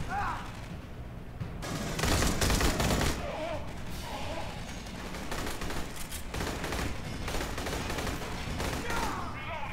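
Rapid turret gunfire from the Aliens: Colonial Marines game, dense bursts of shots that swell loudest early on and keep crackling through the rest, with a voice talking over the action.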